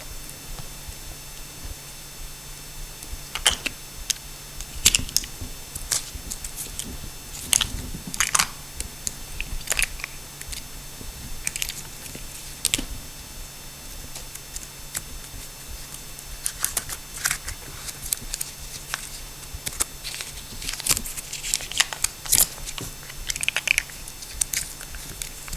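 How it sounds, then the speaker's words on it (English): Utility knife slicing and peeling apart the outer insulation of electrical cable during a recessed lighting install, a series of sharp close scrapes, snaps and crinkles at irregular intervals over low room noise. "Take a utility knife, just cut the insulation on the outside and take it apart and separate it"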